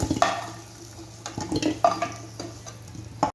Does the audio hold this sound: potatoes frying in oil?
yes